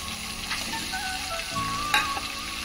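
Eggs fry with fresh coriander in a hot pan, giving a steady close sizzle with light stirring and a brief clink of utensil near the end.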